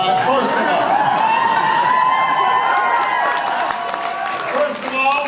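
A huge crowd at a 2007 Barack Obama presidential campaign event in San Francisco roars and cheers continuously, with whoops and shouts swelling and then easing toward the end.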